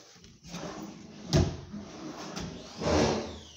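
Drawers on a wooden double-deck bed being pulled open and pushed shut, with wooden sliding rumbles and a sharp knock in the middle, close by and with no talk.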